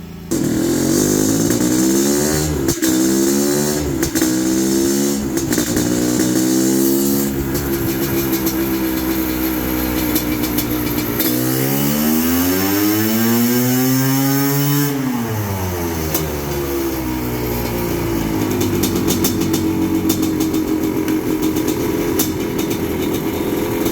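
A Honda CR500R two-stroke motorcycle is revved hard on a dyno, a loud raspy engine climbing through repeated rising sweeps, then a long full-throttle pull that peaks and falls away, with a steady loud roar throughout.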